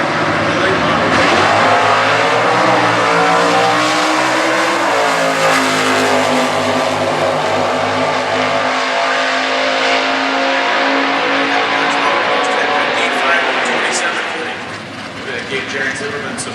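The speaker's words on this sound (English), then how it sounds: "the 1969 Camaro with a 396 under the hood on the race going on the roadside" A 1969 Camaro with a 396 big-block engine drag racing in stock class eliminations at Indy in 2016: a loud, sustained engine roar that climbs through the gears before fading, with an announcer talking over it.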